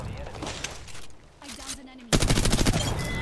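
Gunfire in the video game Apex Legends: after a stretch of game noise and muffled voices, a loud, rapid automatic burst of closely spaced shots runs to the end.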